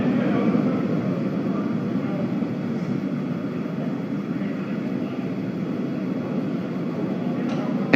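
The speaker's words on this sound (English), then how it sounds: "We heard we're throttling down the Merlin engines on the first stage." Steady, loud broadband roar of Falcon 9 first-stage Merlin rocket engines in flight as they throttle down, a continuous low rumble holding for the whole stretch with no pauses.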